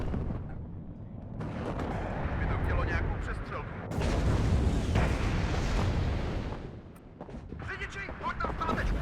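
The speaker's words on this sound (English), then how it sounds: "Cheeky fuel explosion there from the AMX 10p Milan" Fuel explosion of an AMX-10P Milan vehicle in WARNO, heard among heavy battlefield booms and gunfire: a rumbling blast swells, a sharper burst hits midway, then the roar fades before more distant combat noise returns.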